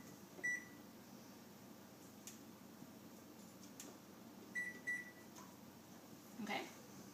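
Oven timer buttons being pressed to set the bake time for two 9-inch cake pans, a few short electronic beeps in two small bursts over a quiet kitchen background.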